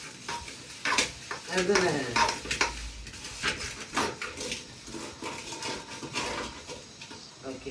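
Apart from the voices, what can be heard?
stirring greens in a cooking pot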